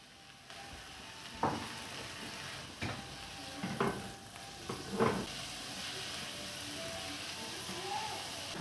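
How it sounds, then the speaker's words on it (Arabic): An onion sizzles and fries in about three spoons of oil with a constant hiss, interrupted by several scraping stirs of a utensil. "حاطين حوالي 3 معالق زيت، وحاطين البصلة يدوب هتدبل"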